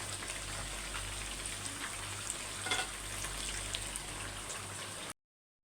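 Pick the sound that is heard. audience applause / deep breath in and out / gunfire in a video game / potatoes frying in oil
potatoes frying in oil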